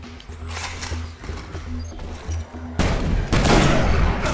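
Sniper rifle fire in the video game Destiny, with loud broadband blasts clustered in the second half over a steady game backdrop and a low droning hum earlier.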